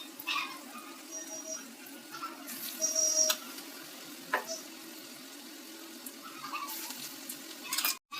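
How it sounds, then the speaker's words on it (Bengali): Coated pieces of food go one by one into hot oil, making a quiet, steady sizzle broken by a few brief clatters and splashes, with no talking. "তেলটা গরম হয়ে গেছে, এরপর আমরা এক এক করে এগুলো ভেজে নেব।"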